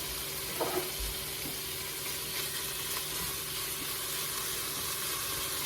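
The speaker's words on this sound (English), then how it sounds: "I have 7 slices of bacon that I chopped up, just about that size. We're going to go ahead and cook that up." Chopped bacon, seven slices, fries in a pan with a steady, quiet sizzle and hiss that runs evenly throughout, with a faint clink of stirring near the start.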